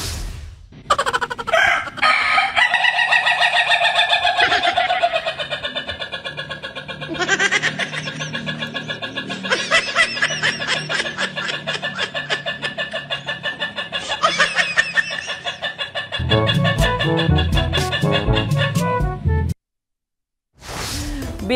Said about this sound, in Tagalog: Biritera ay yung manok.